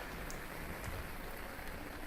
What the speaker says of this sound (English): a really, really hard rain